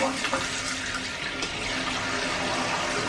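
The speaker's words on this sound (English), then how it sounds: "I'm gonna turn on the water now" Steady rushing water fills the space, a continuous hiss of water pouring into a toilet tank, fairly loud and close with no talking.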